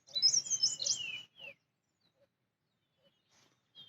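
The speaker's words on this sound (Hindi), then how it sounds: "आप सुनो ज़रा चिड़ियों की आवाज़ कैसी आ रही है।" A short burst of high, twittering bird chirps in the first second, a brief call after, then near silence with faint distant peeps, in the Uttarakhand mountains near Deoria Tal.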